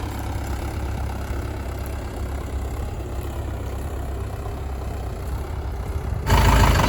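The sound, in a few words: Mahindra tractor engine idling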